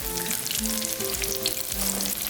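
Cauliflower pieces for buffalo cauliflower fry in a pan with a dense, even sizzle and crackle that holds steady and fairly loud throughout.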